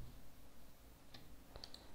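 Two faint, sharp computer mouse clicks land about half a second apart near the end of an otherwise quiet stretch.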